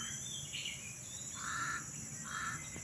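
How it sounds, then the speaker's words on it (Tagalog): Crows cawing in harsh bursts, two louder calls in the middle and end, over a steady insect-like hiss and low background rumble, with no talk. "anong ibig sabihin ng uwak na yan?"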